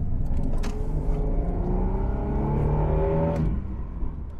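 A 2001 Holden VU Ute engine revs while accelerating, a loud continuous drone climbing steadily in pitch for about three seconds before easing off, heard from inside the cab with no talking.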